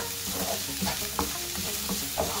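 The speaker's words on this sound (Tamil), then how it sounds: "ஒரு 3-4 நிமிஷத்துக்கு இந்த காயை கொஞ்சம் நல்லா வதக்கி எடுத்துக்கணும்." Vegetables for bread Manchurian sautéing in a hot pan, a steady soft sizzle with repeated stirring scrapes and clinks of a spoon against the pan at a close, even rhythm, no talking.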